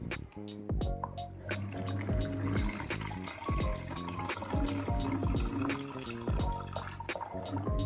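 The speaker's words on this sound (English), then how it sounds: "first we fill up both container with a normal tap water" Water splashes and gurgles as a container fills from a tap, with rising resonant tones and scattered drips, close and fairly quiet.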